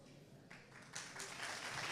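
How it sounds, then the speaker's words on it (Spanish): An audience bursts into applause for a speaker at a talk, the clapping swelling from scattered hands into a full, steady ovation. "el aplauso para la licenciada Lorena Lázaro Cuesta."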